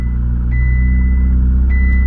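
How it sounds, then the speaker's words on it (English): A Ferrari 488 GTB sounds its reversing warning, a steady high beep pulsing over a low idling engine rumble, close and continuous. "a very annoying beeping sound that just doesn't stop"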